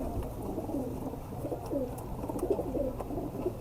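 An Imamdin breed pigeon coos in soft, repeated rolling phrases, steady and close, over a low background hum.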